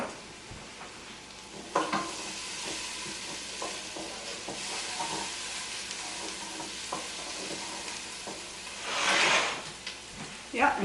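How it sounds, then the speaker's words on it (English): Onions sizzling in a pan while a spoon stirs them for cheddar broccoli soup, with soft continuous frying hiss, scattered scraping knocks and a louder rush of stirring near the end. "Time to stir the onions again."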